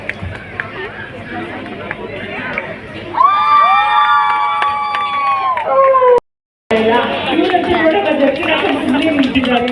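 A crowd at a dance competition during Ganesh puja celebrations in Karnataka cheers and shouts loudly, with excited children's voices over music and a brief dropout midway, then chatter and applause resume.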